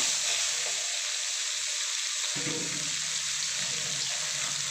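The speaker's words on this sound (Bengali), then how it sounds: "আমি মাছের মাথাটা ভেজে নেব।" Half a rohu fish head rubbed with salt and turmeric goes into hot oil and sizzles steadily, a loud continuous hiss that swells and holds, with no voices.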